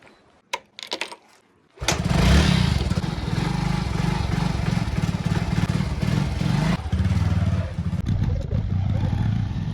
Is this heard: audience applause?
no